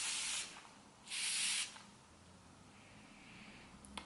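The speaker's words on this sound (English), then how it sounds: "I cannot stop spraying it" Febreze Air Mist Spiced Apple air freshener sprays in two short hissing bursts, the second longer and stronger, against a quiet room background.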